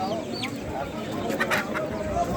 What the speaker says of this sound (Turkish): Damızlık horoz bunlar. Köylü malı. Köylü horozları.